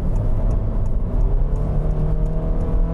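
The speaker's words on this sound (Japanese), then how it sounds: "本線に合流でちょっとアクセル深く踏んでみますね" New Honda Fit with a CVT accelerating hard onto a highway, a steady loud engine drone and road rumble heard from inside the cabin, continuous with no voices.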